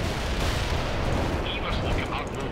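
Heavy artillery fire in the World in Conflict video game, a dense continuous roar of booming barrages and rumbling explosions, loud and sustained throughout with a voice talking over it.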